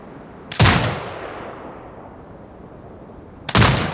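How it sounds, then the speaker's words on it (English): A gun turret fires two loud, sharp blasts about three seconds apart in Sniper Ghost Warrior Contracts 2. Each blast rings out with a decaying tail, and quiet ambience fills the gap between them. "Exit binocular mode and command the turret to fire."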